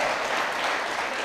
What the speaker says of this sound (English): Representative Trillo, wait for the applause to die down.